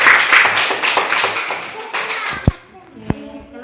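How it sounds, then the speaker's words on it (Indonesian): A burst of applause from a group of children in a classroom, many hands clapping together for a few seconds before fading to a couple of isolated taps. "Tepuk tangan kelompok 1 dulu."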